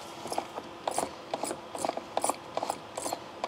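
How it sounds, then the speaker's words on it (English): The motor and belt drive of a Skil belt sander are turned by hand, making a rhythmic series of clicking, ratchety mechanical ticks close up, repeating roughly twice per second with no talking. "Okay, so the motor spins."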